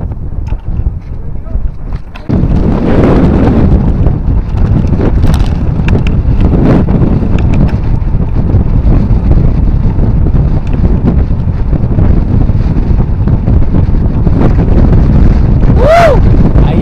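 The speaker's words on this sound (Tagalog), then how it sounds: "talagang pasalubong ang hangin" Strong headwind roars across the microphone on a bike ride, a loud, continuous buffeting rush that swells after the first couple of seconds and stays steady, with a voice talking through it.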